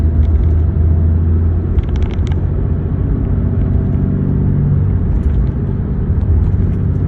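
A diesel pickup with a Cummins 6.7L engine cruises on a road, its low steady engine and road rumble droning continuously inside the cab with no talking.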